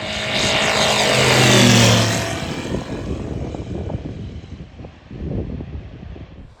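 A propeller airplane rolls down a runway on takeoff, its engine roaring loud and close before the sound thins and recedes into wind-buffeted outdoor noise.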